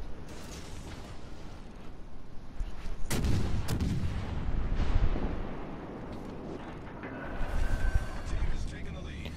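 Heavy naval guns boom from ships in the World of Warships: Legends video game, several deep blasts and rumbling salvos in a steady battle din, with a player talking over the action.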